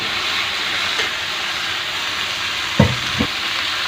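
Ridge gourd goes into a hot pan of softened tomato, salt, turmeric and chili, giving a steady loud sizzle and hiss with two sharp clatters of the vegetable and utensil near the end.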